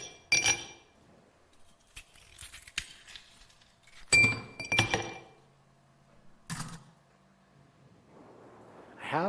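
Ice cubes clink in a glass while a restaurant table is cleared, with several sharp, separate clinks and rattles spaced by quiet gaps, close and fairly loud.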